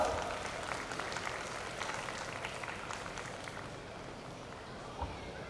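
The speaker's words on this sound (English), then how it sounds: "Let's give them a huge round of applause." Audience at a kindergarten graduation ceremony claps in a sustained burst of applause, a dense, even crackle of many hands from a crowd, moderately distant, fading gradually over several seconds.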